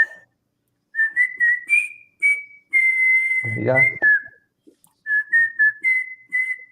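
A person whistles a well-known movie theme tune in clear, close phrases of sustained and sliding notes, with brief pauses, and a short spoken word partway through.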